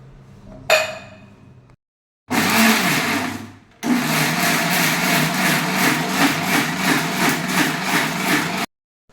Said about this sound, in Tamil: இதை போட்டு நம்ம மிக்ஸி ஜாரில் இப்போது இதை நல்லா ஃபைனாக அரைச்சிக்க போகிறோம்.